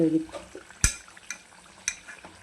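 A spoon or spatula clinks and scrapes in a pan while stirring stuffed eggplant curry, with a sharp knock near the start and a few lighter taps over soft frying noise, close and moderately quiet.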